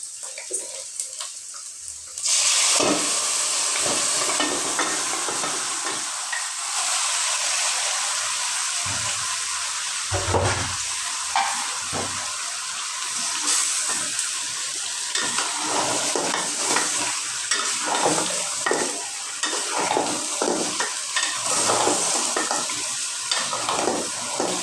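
Beef for nehari is stirred in a pan of hot oil after something is lightly fried, a loud continuous sizzle that swells when the meat goes in, with repeated scraping strokes of a spoon throughout.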